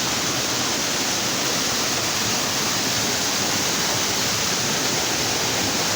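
A mountain waterfall pours in a steady, dense roar of rushing water, loud and unbroken throughout with no voices.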